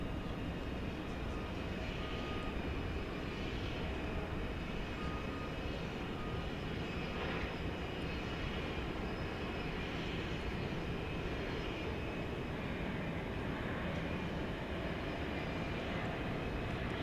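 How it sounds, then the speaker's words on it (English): A UPS MD-11 jet takes off at DFW Airport at night, heard as a steady broad distant roar of engines with a faint hum, continuous and fairly quiet throughout. "the UPS MD-11 is supposed to be taking off"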